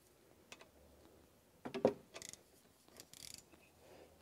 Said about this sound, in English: I'm going to loosen this bolt first.